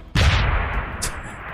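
A grenade blast in Deus Ex: Human Revolution, one sudden loud explosion with a heavy low rumble that decays over more than a second, followed by a faint secondary crack.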